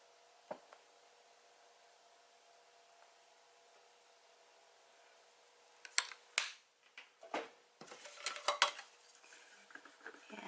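An acrylic pour-painting mix being stirred with a stir stick in a cup, heard as a run of close scraping and clinking strokes that starts after a long quiet stretch.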